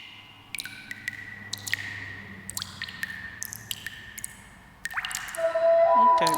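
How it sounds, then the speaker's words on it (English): Water-drip sounds like dripping in a cave within a song about water, crisp plinks and pings scattered irregularly over a low bed, ending in a louder washing swell. "It sounds like a dripping in a cave."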